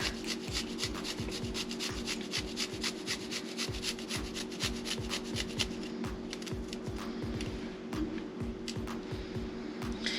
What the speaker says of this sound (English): I'm gonna grate my little clove of garlic in here.